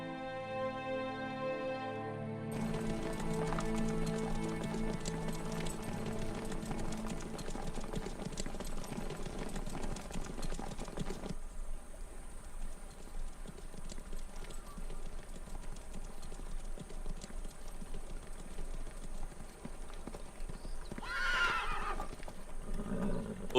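Horses gallop with rapid clip-clop hoofbeats and loud whinnies, a sustained close herd sound with a neigh rising near the end.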